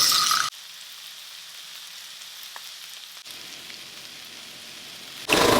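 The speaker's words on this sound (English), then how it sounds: "Finished cooking some steak" Steak frying in a pan, a soft steady sizzle that is faint and continuous, bracketed by louder bursts at the start and end.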